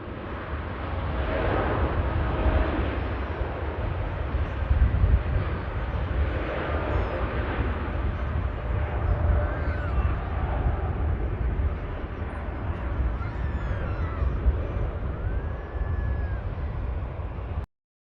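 A Boeing 787 Dreamliner departs Manchester Airport with a distant, steady jet roar and rumble that holds for most of the span before cutting off abruptly.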